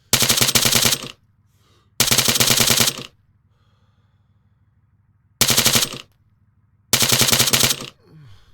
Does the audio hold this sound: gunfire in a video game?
yes